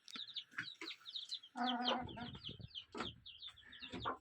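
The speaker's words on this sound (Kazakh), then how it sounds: "кішкентай мини тауық шаруашылығы." Hens on a small backyard chicken farm in Astana cluck repeatedly at close range, with overlapping short calls and a few louder, drawn-out squawks mixed in.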